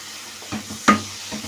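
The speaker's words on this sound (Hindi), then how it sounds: "हाई फ्लेम पे भूनेंगे हम इसको, क्योंकि मशीन का पिसा हुआ है कीमा" Machine-ground minced meat keema fries on a high flame, a low hiss with a few sharp spatula scrapes. One loud stir lands near the middle and softer scrapes fall on either side, with no voices.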